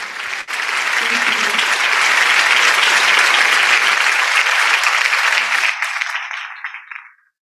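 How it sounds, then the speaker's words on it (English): Loud, sustained applause from a seminar audience at an international joint academic conference, many hands clapping in a dense roar that holds steady for several seconds before thinning and fading out. "That's a very loud claps."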